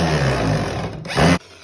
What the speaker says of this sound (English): As we drill this last screw in.